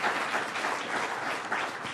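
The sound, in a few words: audience applause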